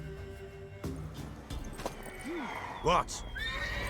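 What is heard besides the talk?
horse (mare) whinnying and hooves clopping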